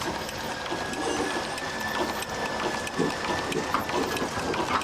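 A film edge coding machine runs steadily nearby, coding sound film: a dense clattering whir with rapid ticking and a faint high whine throughout, no voices.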